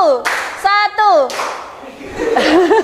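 Indonesian schoolchildren clap in a classroom clapping game, a few sharp group claps broken up by children's voices and giggles, close and brief.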